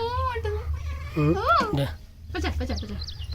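A kitten meows several times in high, wavering cries, close by indoors, with a low hum underneath.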